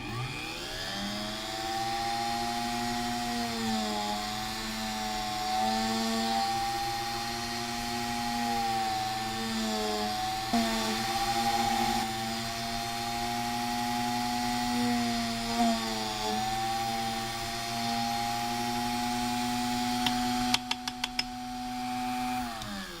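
A small electric drill whirs steadily as it bores holes in perfboard for switches, its pitch dipping and rising under load, with a few sharp clicks near the end.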